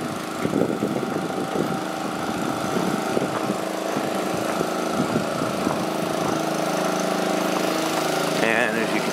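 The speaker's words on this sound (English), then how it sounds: "See Paulo operating the forklift." A forklift engine runs steadily at a constant hum at harvest, with a voice talking over it.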